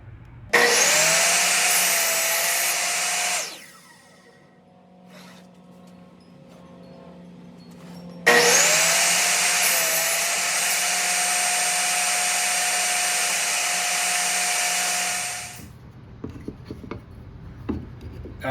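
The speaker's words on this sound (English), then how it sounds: "after I had cut all the laps in my cross pieces, I did the same in my stretcher pieces" A power saw cuts lap joints into wooden stretcher pieces for an end table in two long, loud, steady runs of several seconds each, separated by a quieter gap while the blade winds down.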